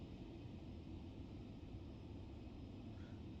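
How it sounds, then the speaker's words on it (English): Airliner engine in Microsoft Flight Simulator 2020 during a replay near Viru Viru International in Bolivia, a steady low droning hum with an oddly electric quality, constant and moderately quiet. "Engine sounds still weird on that replay. Yes, it's like an electric drone or something."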